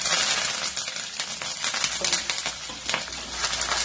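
Garlic, green chillies and curry leaves frying in a pan make a dense, loud, continuous sizzle close up, with crackles and a few light spatula scrapes against the pan and no talking.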